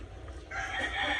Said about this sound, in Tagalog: yung mga manok na gugulo